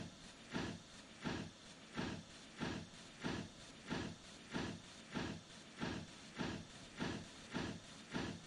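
A steam locomotive pulling away in a train-driving video game, giving a steady run of rhythmic chuffs, about one every 0.7 seconds, each a loud hissing burst of steam against a constant background rumble.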